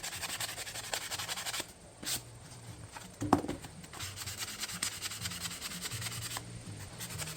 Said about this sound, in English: Just hit that with a little sandpaper